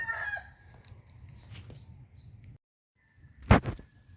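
A broody mother hen being removed from her nest gives short clucks early on and one louder, sharp burst near the end, over a low, steady background rumble.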